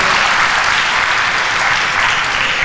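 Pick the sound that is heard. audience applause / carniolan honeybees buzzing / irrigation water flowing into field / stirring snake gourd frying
audience applause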